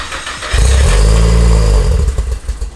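A Nissan S15 with a VVL engine and exhaust fitted, firing up for the first time, a loud deep close-up roar that settles into a thick, rumbling idle.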